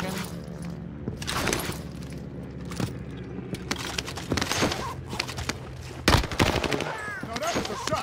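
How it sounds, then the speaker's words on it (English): Repeated gunfire in the Warzone Pacific video game: bursts of shots crack over a dense, busy battle mix, with a louder volley near the end. "No, that was a shot."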